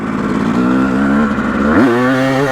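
A Yamaha YZ250 two-stroke dirt bike revs loudly and close in first gear, a crisp buzzing engine note that holds steady before surging sharply higher near the end.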